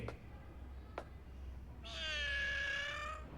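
A cat in the Dragon Ball Super anime gives one drawn-out, clear meow, loud and close, after a couple of soft clicks over quiet background.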